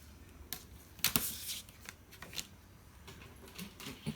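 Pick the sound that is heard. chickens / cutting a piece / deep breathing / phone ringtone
cutting a piece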